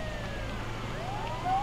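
Ambulance siren in the GTA video game, a steady wailing siren with sweeping pitch over a constant engine and traffic rumble, loud and continuous throughout.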